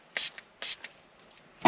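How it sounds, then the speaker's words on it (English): A spray bottle spritzes liquid onto the sticky side of a vehicle screen protector film, two short hissing bursts close by, then faint handling noise. "So we're going to go ahead and just spray that really well."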